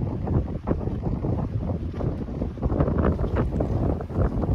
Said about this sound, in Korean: 밤이 깊어가니 바람이 거세집니다.